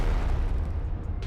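An explosive barrel blows up in a video game: a heavy, booming blast with deep rumbling low end that fills the short moment and trails off.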